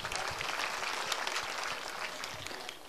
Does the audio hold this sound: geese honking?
no